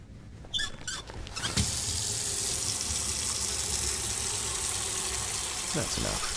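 Water runs steadily from a tap in Autopsy Simulator, a continuous hiss lasting several seconds after a few brief clatters, with a voice speaking at the start.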